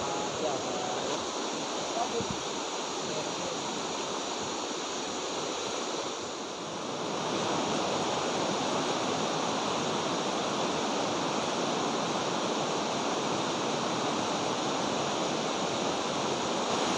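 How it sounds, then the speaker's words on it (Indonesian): Constant roaring rush of falling water from Batu Notok waterfall in Indonesia, a dense broadband wash that stays steady throughout with a brief dip midway. "air terjun Batu Notok."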